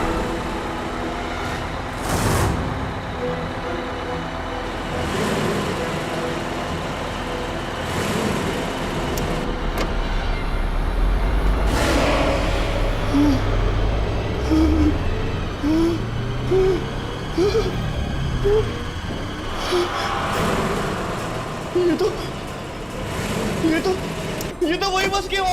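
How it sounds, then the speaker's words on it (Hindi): A bus engine rumbles steadily in a tense horror scene, a broad low drone running through the whole stretch with voices talking over it. "ये तो वही बस की आवाज है।"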